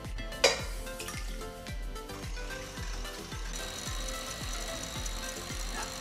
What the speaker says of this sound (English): we have 4 egg whites here, and we're just gonna beat them in this stand mixer for about 5 minutes